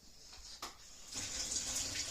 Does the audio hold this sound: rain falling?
no